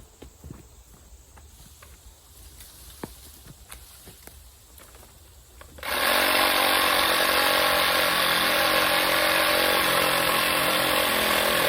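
A chainsaw roars to full throttle partway through and cuts steadily at close range while felling a tall tree near a tractor. Before it starts, light rustling and clicking sounds can be heard.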